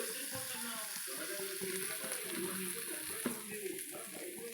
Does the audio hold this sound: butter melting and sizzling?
yes